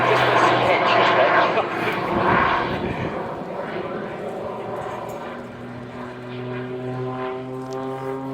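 A propeller aerobatic airplane with two different engine types drones overhead during an airshow display at IWM Duxford, its engine pitch shifting and whining steadily while a commentator talks over it.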